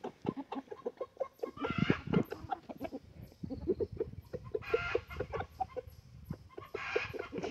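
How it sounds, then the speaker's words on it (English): Chickens on a woodland homestead cluck repeatedly in short, uneven bursts, close and moderately loud, with some brief louder squawks mixed in and no talking. "we still have 5 little chickies"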